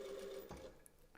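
Sewing machine running steadily as it stitches a hem, a sustained mechanical whir that holds alone for about a second before easing off.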